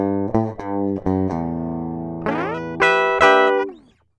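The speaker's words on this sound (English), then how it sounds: "just the normal DI signal of the guitar." Unprocessed DI electric guitar, dry and direct, with a string of plucked notes and chord stabs that ring out and stop abruptly, rising into brighter sustained chords near the end before fading, no talking.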